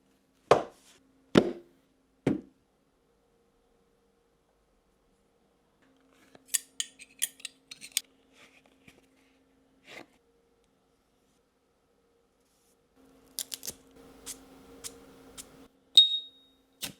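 Sharp, isolated clicks and snips of a cutter on an Arturo Fuente Opus X cigar, followed by scattered small clicks and a faint rasping flicker of a lighter, all close and quiet between silences.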